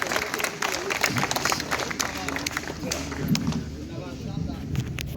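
An audience at a poetry recital (kavi sammelan) honoring Netaji Subhash Chandra Bose's birth anniversary at the Cellular Jail in Andaman claps in a sustained, crowded patter, with a voice speaking over it.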